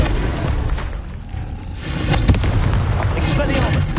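Confringo fire spell blasting in Hogwarts Legacy gameplay, booming explosive bursts and crackling impacts layered over the game's background rumble, with a voice calling out the spell names.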